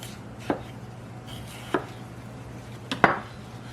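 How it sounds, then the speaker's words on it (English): Three separate knife strokes cut through a red pepper and knock against a cutting board, spaced a second or so apart with quiet gaps between them. "When I cut this red pepper, I cut the top off, I cut the bottom off, I cut the sides away from the seeds."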